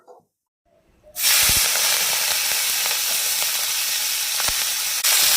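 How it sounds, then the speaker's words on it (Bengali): Prawns drop into hot oil and burst into a loud, steady sizzle right after a brief quiet moment, with a close, continuous frying hiss and a few small pops and spatters throughout. "তো তেলটা আমার গরম হয়ে গেছে, তো এবার আমি চিংড়ি মাছগুলো দিয়ে দেবো।"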